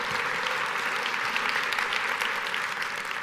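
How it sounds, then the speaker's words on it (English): A large audience of about 450 administrators applauds during a keynote in Las Vegas, dense, even clapping sustained throughout without a break. "That's also applause"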